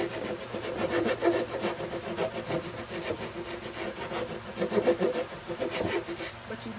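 Steady rhythmic rubbing and scraping as a wooden upper cabinet panel is sanded down to fit, close and moderately loud, with repeated back-and-forth strokes throughout.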